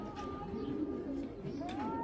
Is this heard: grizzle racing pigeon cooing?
yes